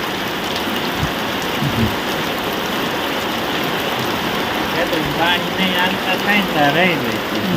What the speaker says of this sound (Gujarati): આવો ભાઈ વરસાદ આવે છે જો